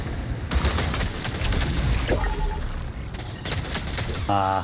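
Video game extraction shooter gunfire: rapid bursts of loud, close shots in two clusters, with a voice talking over the firing.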